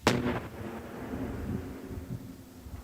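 A single heavy blast from the disposal of unexploded mines booms once at the start and then rumbles and echoes away for a few seconds with no voices.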